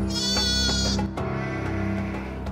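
A sheep bleats loudly and nearby in a long, wavering call, then a second, shorter bleat follows after a brief break, with no talking.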